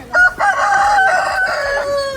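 A rooster crows loudly and close by, one long drawn-out cock-a-doodle-doo with strained harmonic tones that fades slightly at the end.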